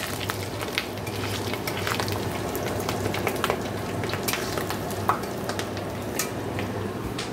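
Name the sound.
fish roe with onion frying in a pan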